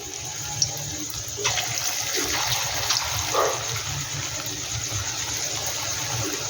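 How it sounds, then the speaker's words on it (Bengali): Raw banana and mung dal fritters fry in mustard oil with a steady, close, hissing sizzle that stays even throughout, with a slight surge partway through. "এবার এটা বড়া টাইপের করে নিয়ে আমি ভেজে নিচ্ছি।"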